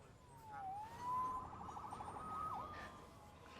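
A faint police siren in the video game Marvel's Spider-Man wails and dips in pitch, distant and thin behind a low background rumble.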